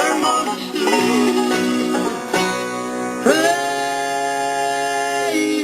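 A song from a radio show plays back through Wagon Traxx radio automation software, with steady sustained tones and a full, continuous musical sound at an even level, no talking over it.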